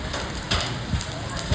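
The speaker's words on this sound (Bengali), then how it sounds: "শিলাবৃষ্টি" Hail pelts down during a hailstorm in Kolkata, a loud, dense rattle of impacts with a few sharper hits standing out, close by.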